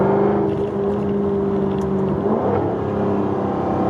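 Nearby 2020 Jaguar F-Type R sports car engine revving with a low exhaust burble, the pitch climbing and then dipping as it shifts gears.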